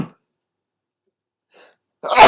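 A single sharp sneeze from a lecturer bursts out loud and close after a near-silent pause, cut off at the end.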